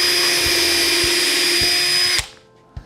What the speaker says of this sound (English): So I've got this hole pre-drilled and it's the size of the threads, so this will thread into both pieces.